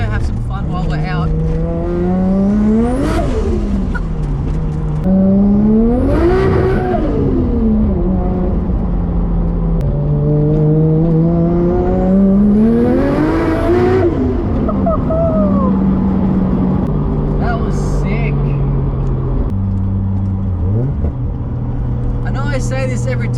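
A Nissan R33 Skyline on boost revs up again and again, its engine note climbing through each gear and dropping at the shifts, loud and close from inside the car.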